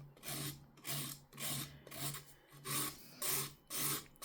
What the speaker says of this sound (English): we're going around with our hand file. I would use a 180 grit to create this.